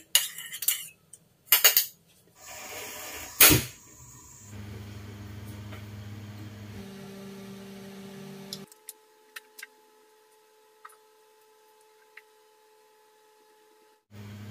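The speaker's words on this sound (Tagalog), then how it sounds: "Sunod ko muna i-prepare yung cornstarch. Haluin ko lang." A spoon stirs a cornstarch mixture in a bowl while beef with ampalaya is being prepared. Sharp clattering clinks come first, then a steady low hum with scattered light ticks. No one speaks.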